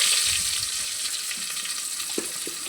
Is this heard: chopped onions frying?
yes